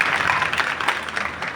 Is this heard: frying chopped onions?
no